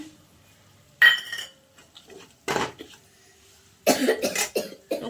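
Mango pickle mixture being stirred in a pan, with a utensil scraping and clinking against the metal in a few separate bursts between quiet pauses.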